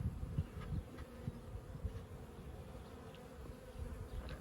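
Low, steady buzzing of many honeybees at an open hive close by, a dense droning hum with brief louder swells.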